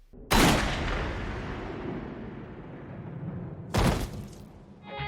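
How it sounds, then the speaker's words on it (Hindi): Two loud gunshots ring out in a Jujutsu Kaisen anime scene, each a sharp blast followed by a long fading echo, several seconds apart. "बंदूक चलेगी"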